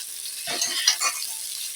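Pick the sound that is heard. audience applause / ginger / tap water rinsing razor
ginger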